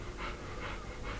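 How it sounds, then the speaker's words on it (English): A dog pants steadily in the background, three rhythmic bursts of quick breaths repeating about every half second over a quiet kitchen-like room tone. "The dog is puffing and panting in the background."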